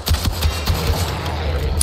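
Automatic weapon fire in a video game, a steady rapid stream of shots that runs loud and continuous for the whole stretch, each round thumping in a fast even rhythm.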